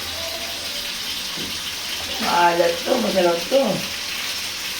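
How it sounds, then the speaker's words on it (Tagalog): Water pouring into a cooking pot for miso sinigang, a running splash that swells midway in short bursts while people talk over it nearby. "At lalagyan natin ang tubig."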